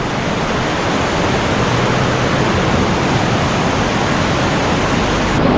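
Fast, deep jungle river water rushes in a loud, continuous broadband roar, close and unbroken throughout with no voices.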